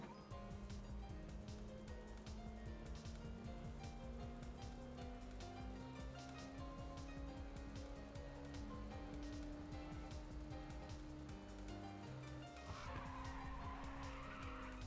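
A racing car drifting in Ridge Racer 2 on PSP, engine droning with a rising pitch while a long sustained tire squeal runs beneath, ending in a sharper skid burst, all steady and close without talk.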